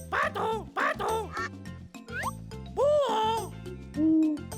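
Cartoon duck quacks for a children's animal-sounds show, two bright rising-falling calls at the start followed by more honking calls, loud and close over a bouncy electronic music bed.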